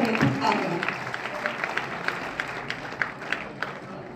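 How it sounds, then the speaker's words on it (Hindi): An audience at a public event in Darbhanga claps to welcome the Governor of Bihar, Arif Mohammad Khan; the clapping is loose and uneven with sharp distinct claps, and speech carries on over it. "माननीय राज्यपाल बिहार श्री आरिफ मोहम्मद खान साहब को जोरदार तालियों से स्वागत करें"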